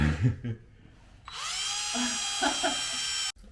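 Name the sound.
drilling with a power drill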